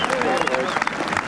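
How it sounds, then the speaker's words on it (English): Golf spectators applaud around the green at the 1986 Open Championship at Turnberry, a loud, continuous crowd clapping that fills the whole moment, with a commentator's voice carrying over it. "tremendous applause at the green"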